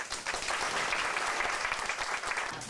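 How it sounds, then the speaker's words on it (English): An audience at a Tea Party event claps in warm welcome for a speaker, dense and sustained applause filling the whole stretch at a steady level. "Thank you for that applause"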